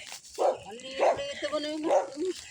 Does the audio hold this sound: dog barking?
yes